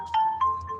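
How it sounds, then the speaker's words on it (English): A mobile phone rings close by with a short repeating ringtone: several quick, bright electronic tone bursts in a steady pattern, with nothing else heard. "my phone's ringing"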